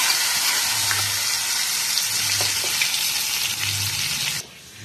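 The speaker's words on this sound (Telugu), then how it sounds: "తాలింపుని పప్పులోకి వేసేసుకున్నాం." Hot tempering of dried red chillies, curry leaves and a pinch of asafoetida sizzles loudly and continuously as it is poured into ridge gourd dal, then cuts off abruptly near the end.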